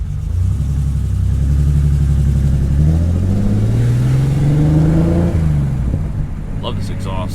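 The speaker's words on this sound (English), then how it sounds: "Love this exhaust." A BMW E30's engine, which is failing, revs up through its exhaust, the deep throaty note climbing in pitch and holding, then dropping back to a rough idle.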